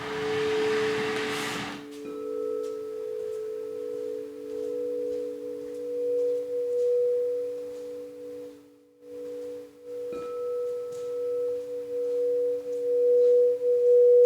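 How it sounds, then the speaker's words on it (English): Steady pure sine tones for meditation hum continuously at a moderate level, two sustained pitches layered together, after a brief burst of broadband noise at the start. "these pure tones are going to be so easy to just like trance into"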